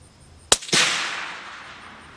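Suppressed CVA Cascade bolt-action rifle fired outdoors, two sharp cracks in quick succession, the second followed by a long fading echo.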